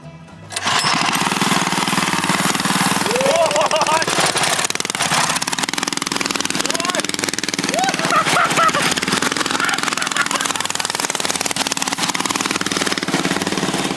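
Small engine running on Jack Daniels whiskey fuel, a loud steady mechanical drone that starts up after a brief quiet and holds a rough, constant running note, with voices briefly heard over it.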